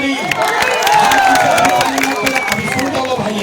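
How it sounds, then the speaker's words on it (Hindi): A large outdoor political rally crowd in Dumraon, Bihar claps and cheers loudly, a dense, continuous roar of applause and shouting mixed with a babble of voices and a few whistle-like tones. "अब ताली बजावे के मौका है"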